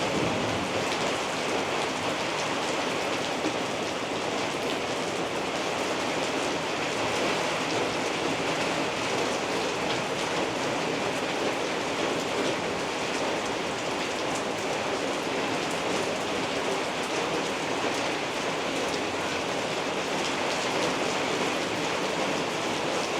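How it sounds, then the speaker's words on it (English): Heavy rain from a storm on a farm in Thailand pours down in a dense, unbroken roar, loud and constant throughout, with no voices. "First rain of the year."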